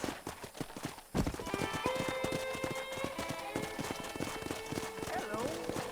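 In the Red Dead Redemption video game, horse hooves clip-clop in a quick, close rhythm with a brief whinny, layered under a tonal musical background.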